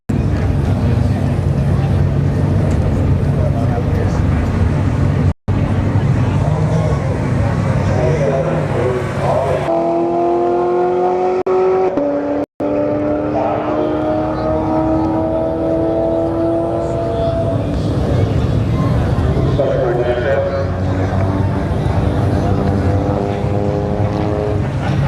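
An Audi S4 and a C7 Corvette drag race at Bradenton Motorsports Park, engines rumbling and revving with rising tones midway, under loud crowd and announcer chatter throughout.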